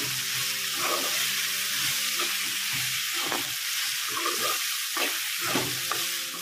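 Ginger garlic paste sizzling in hot oil in a pan for an okra and raw prawn pulusu, with steady frying hiss and repeated spoon scrapes and stirs up close.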